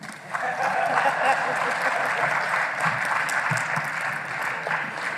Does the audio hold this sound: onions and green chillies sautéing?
no